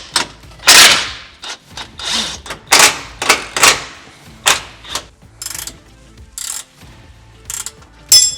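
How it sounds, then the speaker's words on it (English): Ratchet wrench loosening 18mm nuts that attach the bumper to the frame of a RAM 1500, close, loud clicking strokes in uneven bursts with short pauses between them. "we're gonna loosen these 3 18mm nuts that attach the bumper to the frame"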